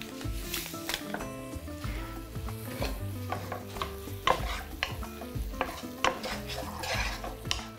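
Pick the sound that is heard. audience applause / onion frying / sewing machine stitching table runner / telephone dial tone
onion frying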